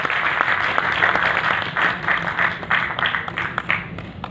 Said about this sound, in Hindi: एक बार जोरदार तालियों से आप स्वागत करें।